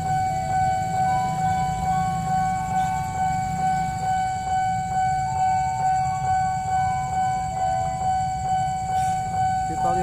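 A railway level crossing alarm sounds continuously, its electronic tones repeating in a steady rhythm over a low background rumble.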